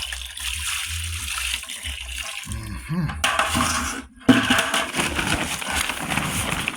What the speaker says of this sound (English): Get some more water in there.